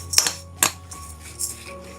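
A spoon mixes oats and curd in a bowl, giving a few sharp clinks and scrapes against the bowl, spaced apart with quiet gaps between them.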